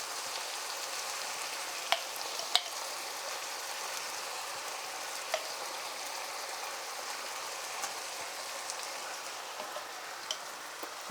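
Tomato paste is stirred into a chicken stew in a hot pot, a quiet, steady sizzle broken by a few faint clicks of the spoon against the pot, with no talking.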